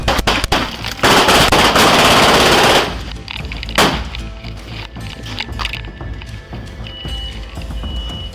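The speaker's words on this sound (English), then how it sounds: "Gunfire echoed all around, thick with smoke." Loud bursts of gunfire ring out during a Houston police shootout with a drug suspect, a dense rapid volley for the first few seconds, then scattered shots and echoing reports fading into lower rumble.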